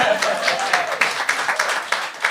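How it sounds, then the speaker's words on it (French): Studio audience at a French-language comedy game show clapping, a dense wash of applause with sharp hand-claps standing out, steady and fairly loud for a couple of seconds. "Applaudissez."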